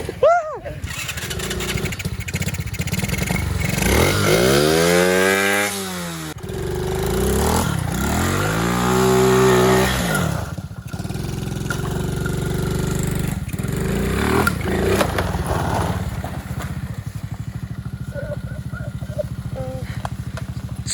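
A 110cc quad's small engine revs hard while drifting outdoors, rising and falling in loud, close surges with pitch sweeps, as voices talk intermittently over it.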